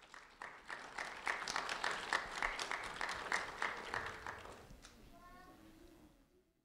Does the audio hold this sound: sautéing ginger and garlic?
no